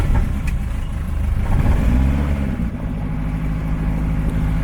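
A fuel-injected turbo Rotax engine on a RANS S-7S aircraft runs loud and close, holding a steady drone with a brief shift in pitch partway through.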